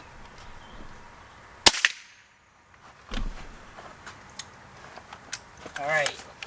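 A supersonic air gun pellet shot fired with premium pellets, giving one sharp, loud crack followed by near silence, then scattered small clicks and handling noises.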